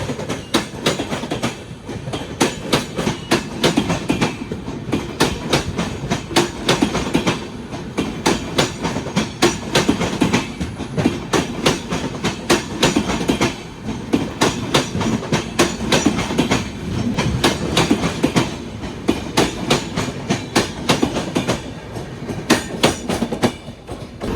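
The Garib Rath Express from Chennai to Nizamuddin rolls past close by, its wheels beating a loud, continuous clickety-clack over the rails for the whole stretch, with no voices.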